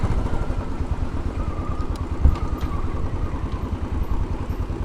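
Royal Enfield Bullet 500 single-cylinder motorcycle on a chilly day riding Fifth Avenue in New York City: a steady, loud, thumping engine note with a rough pulsing rumble throughout and no talk.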